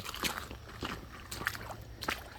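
Footsteps slosh through shallow creek water beside flattened grass, several soft, wet splashing steps at an irregular walking pace, faint and close, with no talking.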